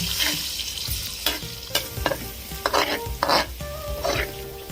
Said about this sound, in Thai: เรามาเจียวกระเทียมกันค่ะ ใช้กระเทียมนะคะสามช้อนตำหยาบ ๆ เจียวให้หอมเลย